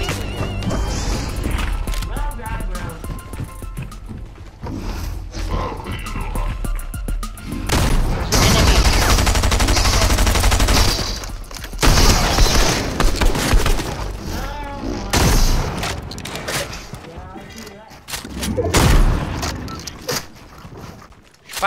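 An airstrike in Fortnite brings heavy crashing explosions and bursts of gunfire, loud, chaotic waves that rise and fall over about twenty seconds, with people talking at times.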